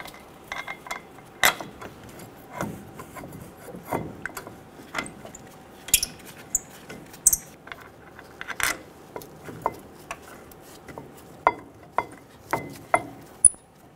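Caliper bolt threaded in by hand on a 2005-2015 Toyota Tacoma front brake, a sparse series of small metallic clicks, taps and ratchet-like ticks close by in a quiet garage, with no talking.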